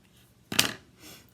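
One crisp crunching press of a paper punch cutting through paper scraps, close and distinct, followed by a softer rustle of paper.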